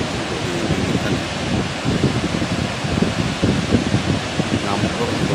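Large waves roll and crash on a rough south-coast beach where fishing boats are stranded, a steady broadband roar with wind buffeting the microphone and someone talking over it.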